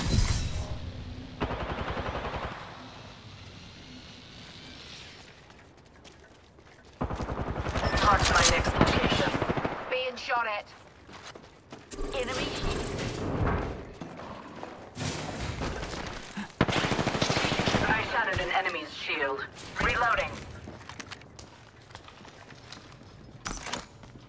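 Bursts of Apex Legends gunfire come in loud, dense volleys that start and stop across the clip, mixed with sharp impacts and game effects, and a voice talks over parts of it.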